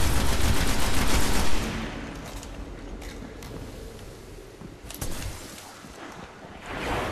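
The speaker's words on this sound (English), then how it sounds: "Okay, it shoots at me." Bursts of enemy gunfire in the Destiny video game: a dense, loud volley at the start, then quieter scattered shots and crackles over a washy background, with another sharp burst midway.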